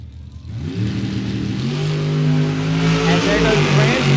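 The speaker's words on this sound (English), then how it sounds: "And there goes Ramsey getting the win." A drag racing car launches down the strip at an ADRL event at WWT Raceway, its engine building from an idle into a loud, rising roar that grows rougher and more distant while a commentator talks over it.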